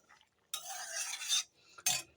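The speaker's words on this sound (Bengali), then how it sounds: "ভালো করে নেড়ে নিচ্ছি সবজিগুলো" Boiled mixed vegetables including sweet potato being stirred in a pot, heard as a quiet, close scraping swish of a utensil lasting about a second, then a short clink and another brief stir.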